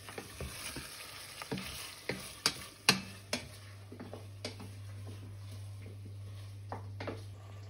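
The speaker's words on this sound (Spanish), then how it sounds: "Le he puesto los chorizos y estos trozos de lomo de jabalí. Vamos a rehogar un minuto." Chorizo and chunks of wild boar loin sautéing in a pan, a soft continuous sizzle broken by a series of sharp utensil taps and clicks, one louder knock near the middle, with no voices.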